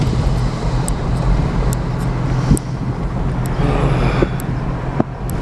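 A car driving along a road on the way to a local car wash, with a steady rumble of engine and tire noise and a few sharp clicks or bumps.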